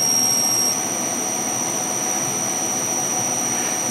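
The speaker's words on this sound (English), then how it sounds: "And let's spin the spindle." Milling machine spindle spinning up, a steady high-pitched whine that jumps higher in pitch early on and then holds over a constant broadband whir.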